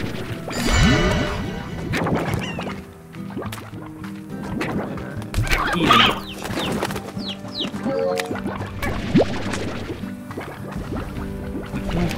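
Repeated hen clucks and squawks from the video game Slime Rancher scattered across the clip over a watery, bubbling background, with little talking.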